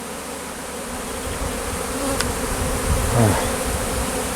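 A swarm of honey bees crawls into a hive, filling the air with a dense, steady buzzing hum close by, with a single short spoken word and a brief scrape or knock near the end.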